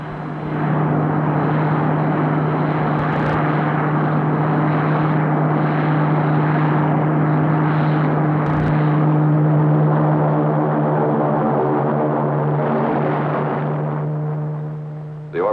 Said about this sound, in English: The Orbit Jet and CM-7 and magnetic lock are safely landed, sir.